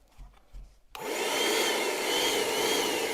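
A LUDYVI BL 07 cordless paint sprayer starts after a few quiet knocks and then runs with a steady, loud, close whirring hiss.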